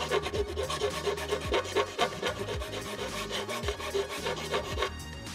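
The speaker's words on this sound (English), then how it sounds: "I've got a big fat square file." A big square file rasps against a plastic helmet part, a steady run of rough strokes close up, with musical tones running underneath.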